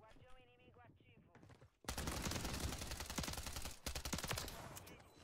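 Rapid automatic gunfire in the Call of Duty Rebirth Island video game: a dense, loud burst runs continuously for about two seconds, pauses briefly, then resumes, following a short stretch of quieter game sounds.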